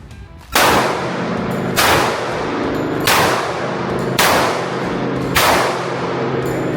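Five loud handgun shots ring out at roughly one-second intervals on an outdoor range from about ten to twelve yards, each a sharp crack followed by a long echoing decay.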